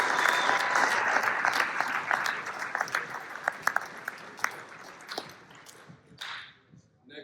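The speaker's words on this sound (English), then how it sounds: "So a round of applause for them and their families." A crowd at a high school football end-of-season awards ceremony claps for the coaches and their families, sustained dense applause with scattered louder claps that thins and fades out near the end.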